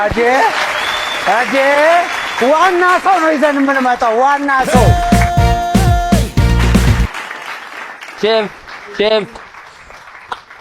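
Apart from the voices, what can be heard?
applause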